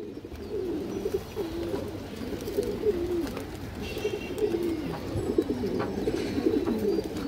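Several Gorra pigeons coo continuously in rolling, overlapping murmurs over a steady background hum, fairly close, with no speech.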